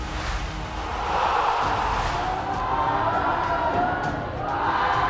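Boisterous crowd noise fills a high school basketball gym in Kingwood as the Mustangs host Summer Creek, a steady loud roar of cheering and shouting with swells throughout.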